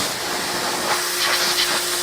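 Pressure washer spraying water onto truck radiator fins, a steady close hiss of the jet with a faint constant tonal whine underneath, loud and continuous.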